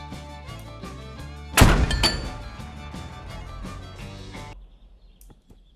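A cannon in a video game fires and strikes its target, a single loud thudding crack with a crashing, shattering burst that rings out over a steady game soundtrack before fading.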